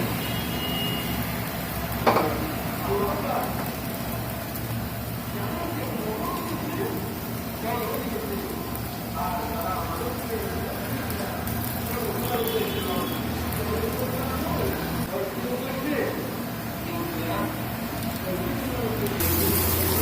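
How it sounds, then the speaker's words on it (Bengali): Dried fish, green chillies, garlic and onion fry slowly in a pan, a constant soft hiss and crackle lasting throughout, with a voice audible over it. "এগুলো সব আস্তে আস্তে ভাজা হোক"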